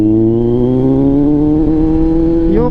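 Motorcycle in low gear on a curvy road, its engine loud and close, revs climbing steadily in pitch for nearly three seconds before a quick change near the end.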